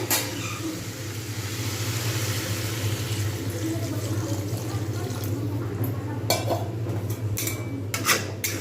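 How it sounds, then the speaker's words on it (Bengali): Water poured into a pan of paneer, cauliflower and potato curry, a continuous liquid rush over a low hum, followed by a few sharp metallic clinks of a spoon or pan near the end. "জল ঢেলে দেবো।"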